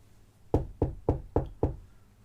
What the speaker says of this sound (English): a knocking on the door.